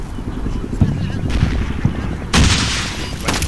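Gunfire and tank combat in Combat Mission: Shock Force, with a few sharp shots and thumps over a steady rumbling battle bed, then a louder burst of noise near the end.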